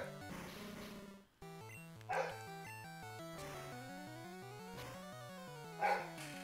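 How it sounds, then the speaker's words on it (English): A dog barks in the background, two brief yaps standing out over looping chiptune music from Pokémon Yellow gameplay. "If you're hearing a dog in the background."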